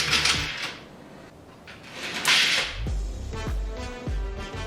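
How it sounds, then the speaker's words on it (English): Carriers on a motorized curtain track slide along the rail with a soft whooshing rush, then several sharp clicks and knocks sound close by as they reach the ends. "Now we're going to move the carriers to the ends."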